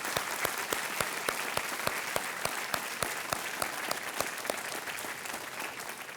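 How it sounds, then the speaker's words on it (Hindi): A studio audience on the game show Kaun Banega Crorepati claps together in a sustained, even round of applause, steady and dense from start to finish. "तालियों के साथ इनका अभिनंदन हो जाए।"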